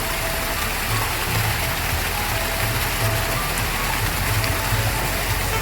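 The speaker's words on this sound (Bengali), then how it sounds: "ঝর্ণাটা ধাপে ধাপে নেমেছে" Water of a waterfall rushes down in steps as a loud, steady broadband roar with no pauses, heard up close and without speech.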